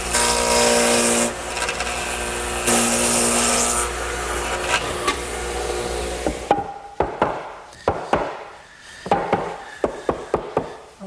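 A dado head cutter on a table saw grinds a dado into a 4x4 post, a loud sustained roar for several seconds. It then gives way to a string of sharp, separate knocks and clatters of wood being handled.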